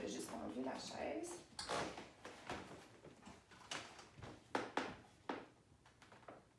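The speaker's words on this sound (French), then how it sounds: "Donc, je vais juste enlever la chaise." A chair being slid and lifted away in a home yoga space gives a series of close scrapes, creaks and light knocks spread across several seconds.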